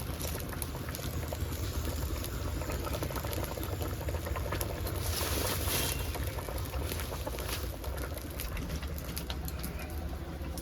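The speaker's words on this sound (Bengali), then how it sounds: "মাছগুলিকে আমি দিয়ে দিলাম তরকারির মধ্যে, তরকারি ফুটছে" Fish curry bubbling in a covered pot over a wood fire, a steady broadband simmering hiss with soft popping that holds evenly throughout, with faint birdsong and cooing in the background.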